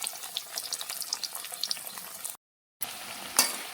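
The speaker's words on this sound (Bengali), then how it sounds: "এইভাবে সবগুলো দিয়ে আমি ভেজে নেব" Pieces of food fry in a pan with a continuous crackling, spitting sizzle, briefly cut off and then resuming, with a sharp pop near the end.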